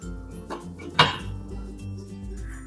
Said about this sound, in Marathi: आता आपण झाकण ठेवूया